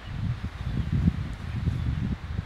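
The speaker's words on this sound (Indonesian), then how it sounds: "Di sini cuacanya angin kencang beberapa hari ini" Strong wind rustles leaves outdoors during stormy weather by a lake on Samosir, a soft, continuous, fluttering hiss with gusty swells and no talking.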